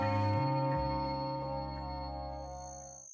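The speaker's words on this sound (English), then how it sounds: "Immediately that sound reminds me of an insect in the woods during nighttime." A quiet, sustained synthesizer tone with a buzzy, droning layer and a thin high whine, steady and faintly chirring like a night insect.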